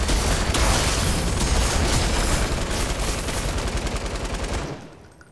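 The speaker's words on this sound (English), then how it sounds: "Now start shooting!" Dense automatic gunfire from a Fortnite match rattles almost nonstop at full loudness, layered shots and booms blurring together before cutting off abruptly near the end.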